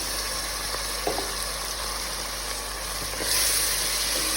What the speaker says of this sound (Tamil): ஸோ இப்போ இது நம்ம நல்லா ஃப்ரை பண்ணலாம்.